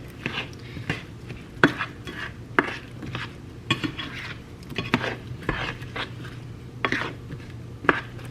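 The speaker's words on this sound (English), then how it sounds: "go ahead and mix it up very, very well" Apple pie filling is stirred in a pot, with a spoon scraping and clinking against the sides in an uneven rhythm. A low background hum sits under the stirring.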